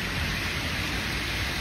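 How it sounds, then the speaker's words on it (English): Rain falling along a road, heard as a dense, steady wash of noise with no break and no voices. "it's raining."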